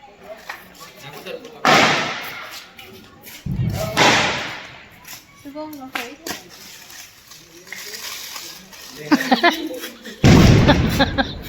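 Several loud firecracker blasts go off at intervals during Dev Diwali, sharp bangs with trailing noise, set off inside a metal plate, while people talk between the explosions.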